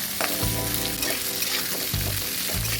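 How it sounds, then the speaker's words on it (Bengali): Raw peanuts and green chilies, with onion and garlic, fry in a pan with a loud, continuous crackling sizzle, occasionally stirred, close and steady throughout with no speech. "দিয়ে এগুলো খুব ভালো করে ভেজে নেব"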